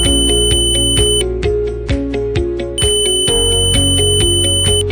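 A multimeter's continuity-test buzzer beeps on and off in a steady, loud series of short electronic tones, each pulse starting and stopping sharply in quick succession.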